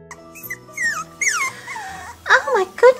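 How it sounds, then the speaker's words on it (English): A puppy whimpers and whines in a few high, wavering bursts, mostly toward the end, mixed with talking voices in a toy play scene. "Oh my goodness, is that a puppy?"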